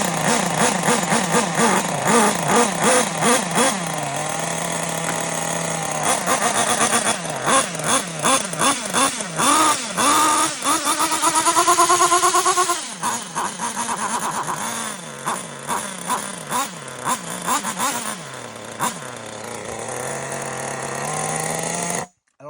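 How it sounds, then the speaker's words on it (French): A small engine runs loud and close while warming up, revving up and down repeatedly in uneven surges with rising and falling pitch, then cuts out abruptly at the end. "Est-ce que mon moteur est bien réglé ou pas?"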